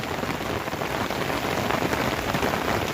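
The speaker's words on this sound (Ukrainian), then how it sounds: "Такий дощ іде." Steady rain falls in a village, a dense, even patter on surfaces that fills the whole stretch without a break or voices.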